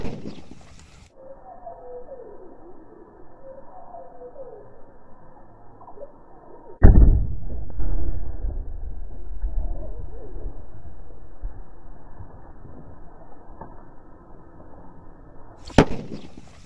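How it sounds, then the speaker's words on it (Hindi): Sutli bomb firecracker buried underground detonating with a single heavy, muffled thump midway, followed by a long low rumble and debris settling, after quiet outdoor ambience with faint birds. "तो दोस्तों, हमारा सूतली बम बोल चुका है।"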